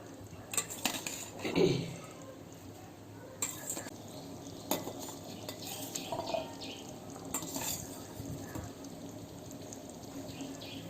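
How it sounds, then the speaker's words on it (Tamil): Boiled chickpeas tipped into a simmering pot of chana masala and stirred, with a few sharp clinks of a spoon against the metal pot, soft scraping and a gentle bubbling hiss underneath, fairly quiet and close. "இப்போ என்ன பண்ண போறோம்னா சுண்டலை போட போறோம்"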